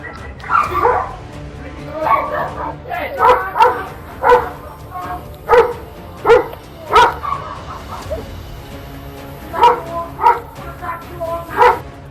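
A Doberman guarding a property barks repeatedly at an intruder, a run of about a dozen loud, close woofs in uneven bursts with short gaps between them.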